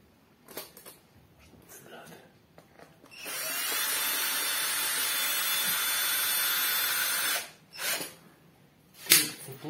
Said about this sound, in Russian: Крепим на саморезы.